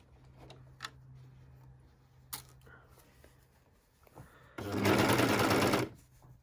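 A domestic sewing machine stitches a T-shirt seam in one loud, rapid burst of about a second, following quiet clicks and handling of fabric at the presser foot.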